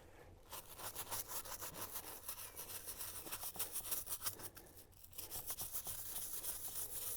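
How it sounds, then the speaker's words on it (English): A brush scrubs gunk from the inside of a bass boat's live well in quick repeated back-and-forth strokes, close and steady, with brief pauses between bursts. "You can see that gunk just comes right off as you scrub it"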